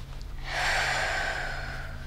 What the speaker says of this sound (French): Prends des bonnes respirations, puis laisse échapper l'air doucement